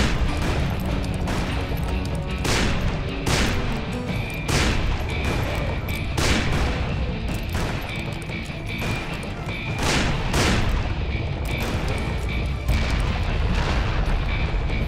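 Dense gunfire from the video game Call of Juarez: Bound in Blood, with loud, rapid repeated shots and heavy booms filling the whole stretch and a busy rumble of battle underneath.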